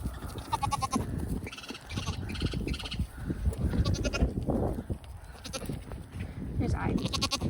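Goats bleating at feeding time on a farm, several animals calling repeatedly in overlapping bleats close by, with a person talking over them and a crow cawing in the background.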